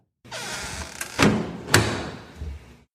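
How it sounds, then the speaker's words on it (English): A door closes in a short sequence of sounds: a sliding rush, then two sharp thuds about half a second apart, loud and close, with no one speaking. "That's the sound of a door closing."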